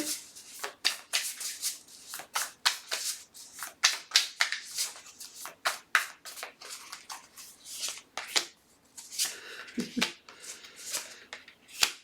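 Tarot cards being shuffled by hand up close: a long run of rapid, papery flicks and riffles in irregular bursts, with a slight pause and rustle near the end.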